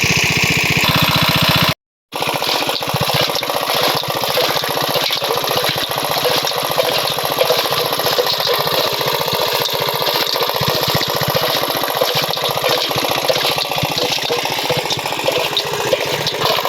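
A small boat's engine drones loudly and steadily throughout, rough and rasping, broken only by a brief dropout near the start.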